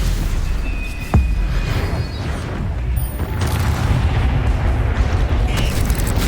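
Spell blasts and explosions in the video game Hogwarts Legacy, a dense rumbling wash of booms and crackling magic with a sharp zap near the start, continuous and loud, no voices.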